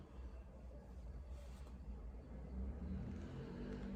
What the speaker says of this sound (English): My house is close to the road, so it's kind of noisy.